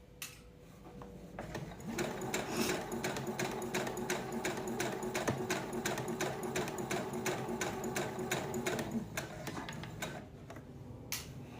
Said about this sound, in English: That way I know that I'm sewing a straight line.